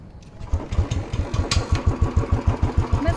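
A Royal Enfield Bullet motorcycle engine starts up and settles into its distinctive slow, thumping single-cylinder beat, a steady loud pulse heard up close.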